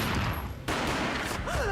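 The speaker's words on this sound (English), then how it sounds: "A gunshot boomed and she fell down in slow motion." Gunfire from the Max Payne video game erupts as a rapid burst of booming shots with a dense, sustained crackle, loud and close, with a brief drop partway through.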